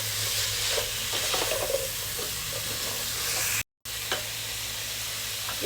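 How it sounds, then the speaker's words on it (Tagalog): Shrimp, tomato and spinach stalks sizzle in a pan while being stirred, a steady frying hiss with soft scraping strokes and a brief cut of silence midway. "Ayan, tuloy na natin sa paghalo."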